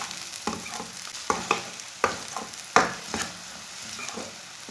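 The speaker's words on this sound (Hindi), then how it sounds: "लहसुन डाल के दोनों चीज़ों को ब्राउन कर लेंगे। इसे मीडियम आंच पर ब्राउन कर लेना।" Onion and garlic browning in a pan over medium heat, stirred repeatedly; a steady sizzle of frying runs throughout, broken by sharp scraping clacks of the spoon every second or so, fairly close, with no talking.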